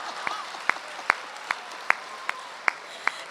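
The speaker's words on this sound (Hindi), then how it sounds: "तालियां गलत जगह बजा दी आपने।" Audience applause filling a hall during a Hindi poetry recital, a steady wash of clapping with a few sharp, rhythmic louder claps standing out at regular intervals.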